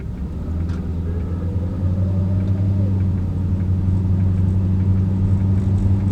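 A car engine rumbles steadily from inside the moving vehicle, a low continuous drone with road noise that thickens slightly partway through, no voices.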